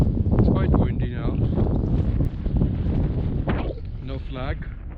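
Strong wind on Prairie Mountain in January buffets the microphone with heavy low rumbling gusts, loud and continuous, with a voice speaking intermittently underneath.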